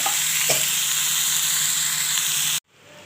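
Teasel gourd and potatoes fry with poppy seeds and nigella seeds in a pan, making a loud, steady close sizzle with a couple of stirring scrapes before the sound cuts off abruptly near the end.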